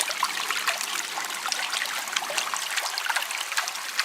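Water trickles and sloshes steadily as a gold pan is swirled and worked in a stream at an old North Carolina gold mine, a soft continuous splashing with no voices.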